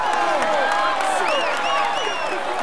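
A crowd cheers and applauds for a cyclist on the Tour de France podium as he receives the green jersey. Dense, steady clapping and shouting runs throughout, with whistles rising over it.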